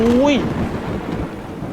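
Thunder from a lightning strike rumbles low in the Roblox game A Dusty Trip on a desert road, a brief close roll behind a short exclaimed voice at the start.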